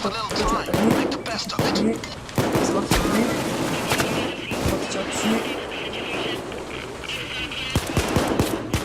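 Rapid gunfire from Payday 2 during a multiplayer heist, sustained bursts and sharp shots running throughout with loud, dense game action.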